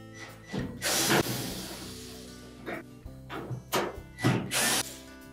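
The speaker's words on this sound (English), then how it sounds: "going to remove these 2 screws located just below the lint filter" A power drill drives out screws from the front panel of a Samsung dryer, sounding as several short, loud whirring bursts up close, separated by pauses with faint handling noise.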